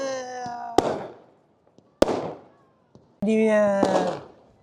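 Several sharp New Year firework bangs crack out, separated by pauses, with a crowd calling out before and between them at moderate distance.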